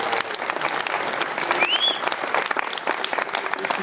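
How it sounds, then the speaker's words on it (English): At a podcast awards ceremony in Las Vegas, a crowd claps steadily and loudly, with a dense wash of hand claps and a faint whistle rising briefly in the middle. "You can applaud Tina"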